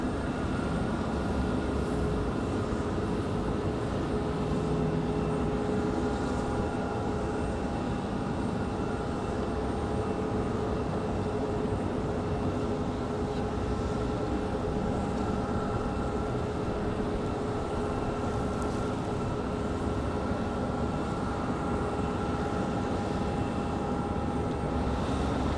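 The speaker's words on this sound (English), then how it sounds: "Got a JetBlue A220 rolling up." Jet airliners, including an A220, taxi at Raleigh-Durham International Airport, a steady distant engine roar and hum that holds for the whole stretch with no talking.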